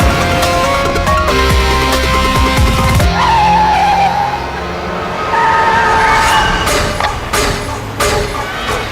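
A recklessly driven car skids with loud tire squeals and engine roar, then a thump and further screeching, close and intense against dramatic background music.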